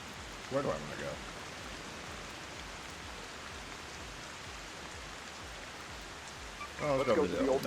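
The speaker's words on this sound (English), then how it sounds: "Man, there's bugs and it's raining." Steady rain falls in a video game, an even, moderate hiss of patter lasting throughout, with brief bursts of a voice near the start and the end.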